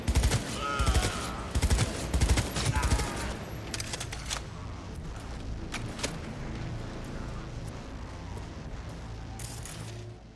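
Heavy gunfire erupts in Cyberpunk 2077 during a street procession, with dense overlapping bursts at the start that thin into scattered shots and mechanical clatter, ending with a final loud crack.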